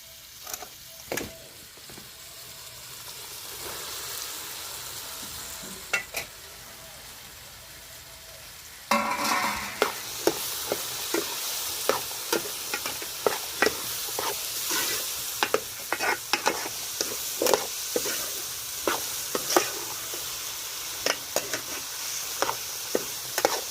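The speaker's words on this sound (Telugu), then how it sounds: "ఇప్పుడు బీరకాయలను అయితే వేసుకుందామండి." Ridge gourd pieces go into a hot pan of softened tomatoes. A quiet simmer turns into loud, steady sizzling, broken by frequent sharp scrapes and clacks of stirring.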